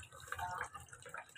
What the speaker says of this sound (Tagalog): Magsasalin po ako dito sa timba